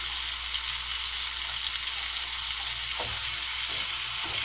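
Steak and onions sizzle steadily in a hot pan, a dense, even hiss that continues throughout with a few faint scrapes of stirring.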